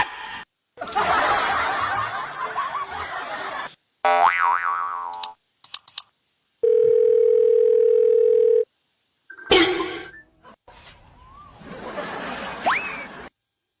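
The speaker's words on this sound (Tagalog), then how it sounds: "Tawagan ko ro si Kap." A phone places a call in a comedic sketch, giving a steady ringback tone of about two seconds. Around it come short cartoonish boing effects and snicker-like bursts, with brief silent gaps between sounds.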